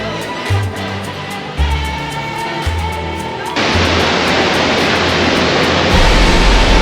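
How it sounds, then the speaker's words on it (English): The main part of a huge waterfall roars in a continuous rushing wash that swells louder and fuller midway through, close and overwhelming, with no one talking. "This is the main part of the waterfall"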